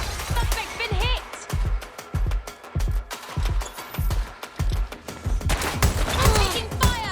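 Gunfire in the video game Watch Dogs: Legion, a rapid fusillade of loud, punchy shots in irregular bursts, mixed with shouting voices and other game effects.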